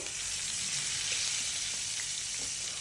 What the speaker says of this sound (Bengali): ও কিন্তু সুন্দর করে বাগুনটা ভাইজা নিচ্ছিলেন